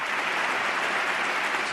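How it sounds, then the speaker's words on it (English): Steady, dense applause from a crowd of politicians clapping for themselves, continuous and fairly loud throughout with no pauses. "the politicians applaud themselves for their generosity"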